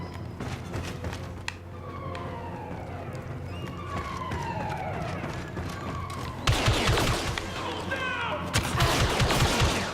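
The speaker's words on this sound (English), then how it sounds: "I know I should be shooting the head instead of the chest, but whatever. It's infinite bullets in it." Blaster gunfire in Star Wars: Battlefront II, rapid repeated shots that grow louder and denser in the second half, mixed with whooshing effects and a player's voice talking at times.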